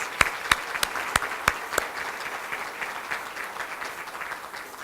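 At a scholarship luncheon, a handful of sharp, separate claps ring out near the start, then thin into soft, scattered applause from the gathered guests that fades off.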